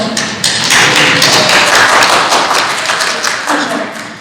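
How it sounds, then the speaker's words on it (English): Audience applause for a girl named Charlotte brought up in front of a crowd, a dense wash of clapping that swells quickly, holds loud and steady, then tapers toward the end. "Round of applause"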